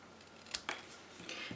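Scissors snipping paper word strips for a handmade accordion window card, giving a few crisp, close cuts in quick succession with no voices.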